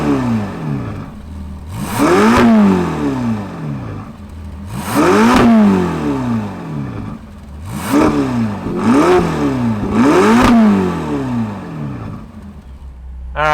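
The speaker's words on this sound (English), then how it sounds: "let's fire up this GTC4 Lusso T and hear what it sounds like" Ferrari GTC4 Lusso T engine revving hard in repeated bursts, about five sharp rises and falls in pitch with brief dips between, loud and close, no talk.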